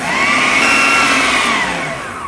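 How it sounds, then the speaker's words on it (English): Loud, steady whir of a blender pureeing a kale falafel mixture, its motor pitch holding then easing slightly toward the end, heard alone. "Pop the lid on and blend it all up"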